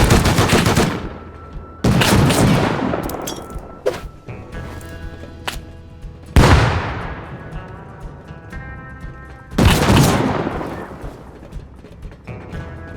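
Gunfire in the survival game Rust: loud, sharp shots ring out with long echoing tails at uneven intervals, a handful of bursts spread across the stretch with quieter rumbling between them.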